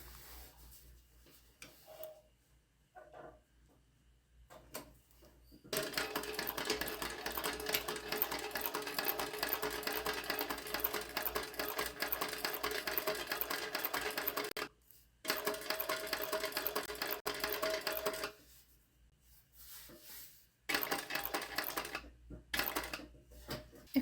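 A sewing machine stitches rows across the top and along the bottom edge of an accent panel on a fabric tote bag, running in steady rapid bursts of several seconds each, separated by brief pauses.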